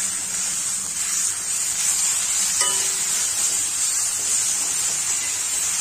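Onions and tomatoes for Tamil chicken varuval sizzle steadily in a hot pan, a continuous close frying hiss with a brief clink partway through.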